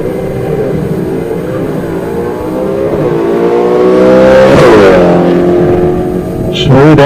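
A manually shifted drag racing car at a Midwest drag strip revs loudly and accelerates hard, its engine note rising and falling through gear changes, with an announcer's voice heard over it.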